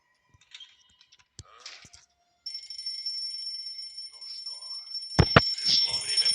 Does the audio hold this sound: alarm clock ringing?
yes